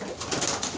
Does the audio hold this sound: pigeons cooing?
yes